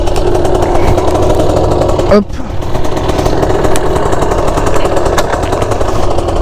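Small Derbi X-Trem Limited 50cc motorcycle engine running steadily nearby with a continuous buzzing drone, briefly dipping once, while a voice speaks over it.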